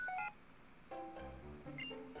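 An Xtransceiver ringing in the Pokemon White video game, a chirpy electronic ringtone of stepped beeping tones that repeats in short phrases over quiet game music.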